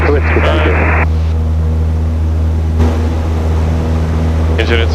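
A small airplane's loud, steady engine drone at takeoff power fills the clip on a runway at Brackett Airport, with brief crackly radio bursts over it.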